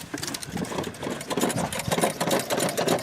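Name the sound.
engine of a full-frame metric GM car running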